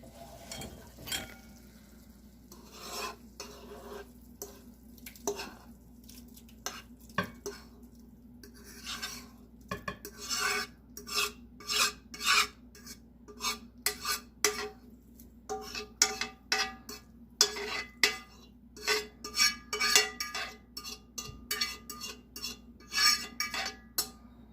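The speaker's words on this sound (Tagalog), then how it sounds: "ihahalo ko na ang ating giniling" Ground meat (giniling) being mixed in a bowl for tortang giniling: a steady run of close scraping, clinking and squelching strokes from a utensil against the bowl, growing busier toward the end, with no talking.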